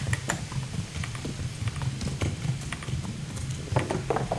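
Steady clip-clop of horse hooves in a video game, a quick rhythm over a low ambient hum, with a few sharper knocks mixed in.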